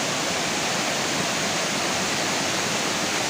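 Nang Khruan waterfall in Tak province pours with a steady, dense rush of white water, close and unbroken for a few seconds with no voices.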